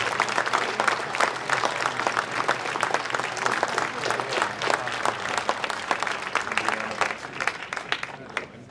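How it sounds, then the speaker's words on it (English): Sustained applause from a gathered audience honoring Hall of Fame inductees at a high school ceremony, steady dense clapping filling the hall for the whole stretch with a faint crowd murmur underneath. "Let's give one more big hand for our inductees."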